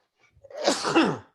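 A single close, sharp sneeze bursts out alone, with a short breathy intake just before it, during a live drone-talk show.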